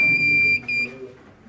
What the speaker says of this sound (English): Now it's active. Alarm is active.